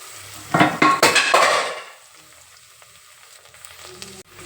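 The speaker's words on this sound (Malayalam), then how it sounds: "വെളുത്തുള്ളിയും ഇഞ്ചിയൊക്കെ ചതച്ചത് ഇട്ട് കൊടുക്കാം സവാള നല്ലോണം ഒന്ന് വഴറ്റി കൊടുക്കാം" Sliced onion sautéing with crushed garlic, ginger, green chilies and cumin for a soya chunks curry, loud sizzling and spatula scrapes in a pan for the first two seconds, then fading to a low, steady frying hiss.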